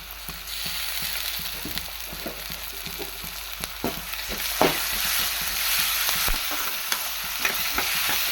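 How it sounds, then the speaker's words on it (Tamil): Onions sizzle and fry with ginger garlic paste in a pan for a drumstick stir-fry, a steady close hiss with repeated scraping stir strokes throughout. "ஓரளவுக்கு வெங்காயம் பார்த்திங்கன்னா நல்லா வதங்கியாச்சு இப்போ இஞ்சி பூண்டு பேஸ்ட் ஆட் பண்ணிக்கலாம்"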